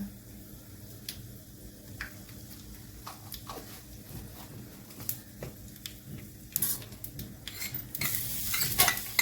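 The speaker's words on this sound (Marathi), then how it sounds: "तडक्याकरता लागणार आपल्याला लसणाची पेस्ट जिरं हिंग टाकूया आपण टेस्ट येण्याकरता" Garlic paste, cumin and hing sizzle in hot oil as a tempering for whole masoor dal, a faint crackle with scattered spoon clinks and stirring scrapes that grows louder and hissier toward the end.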